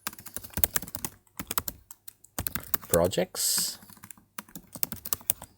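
Quick bursts of clicking keystrokes on a computer keyboard as a new folder is named Ableton for music projects, broken by short pauses and mixed with someone speaking close by.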